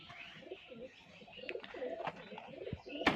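Giribaz pigeons coo softly in a series of low, throaty calls, fairly faint and close, with a sharper flutter or chirp at the end.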